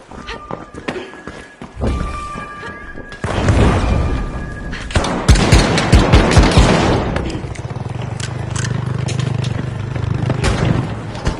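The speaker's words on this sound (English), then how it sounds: "Throwing sonar grenade!" A sonar grenade thrown during a match of the video game The Finals, with short tonal beeps early on, then loud game thumps, rapid bursts like gunfire and running footsteps; a voice may be faintly present.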